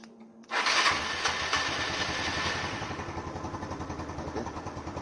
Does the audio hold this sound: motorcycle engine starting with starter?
yes